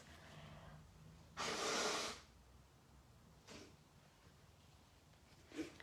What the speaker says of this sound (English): I'm going to blow my nose again